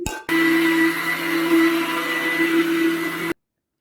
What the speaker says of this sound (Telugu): మిక్సీ జార్లో అయితే వేసేసుకుంటానండి